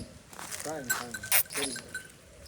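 A cow that has just calved and her newborn female calf call in short, wavering bleat-like bursts near the middle, alongside people talking.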